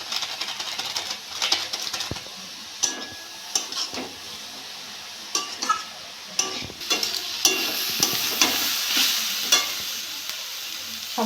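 Cabbage for a veg momo filling is stirred and fried in a pan, with loud, close scraping spatula strokes in an uneven rhythm over a steady sizzle and occasional metallic clinks, and no one talking.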